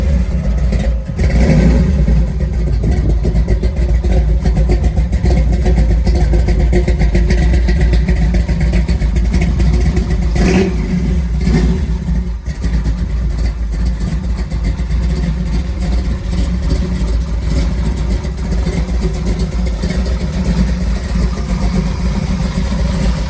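A 1937 Ford Tudor De Luxe Slantback's engine running loud and close, idling with a steady rumble that rises into repeated revs and then settles back.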